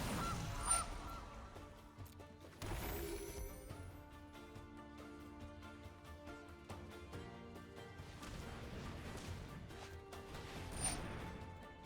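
A goose honk comes from the Gilded Goose card in the MTG Arena video game, with game music and effects behind it. Loud honking bursts land at the start and again around the middle, and there is no talk.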